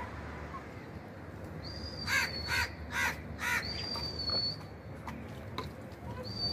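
A crow caws four times in a quick rhythmic burst, fairly close, over steady outdoor background hiss with a thin high whistle-like tone running through.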